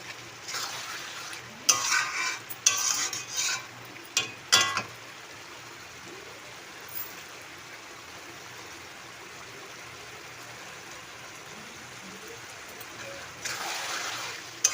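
Lota fish being slowly stirred in a frying pan while cooked down into jhuri, a soft scraping and sizzling hiss with a few louder clatters early on and a brighter burst near the end, fairly quiet and close.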